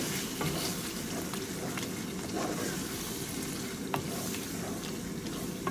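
Tomato sauce and tomato puree being stirred together in a pan for homemade cheese lasagna, a steady close sizzle with scraping stir strokes running throughout, no talking.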